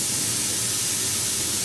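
Air brake hissing on an SNCF Z 27500 train, a continuous broadband hiss heard close and steady throughout the short clip, with no talking.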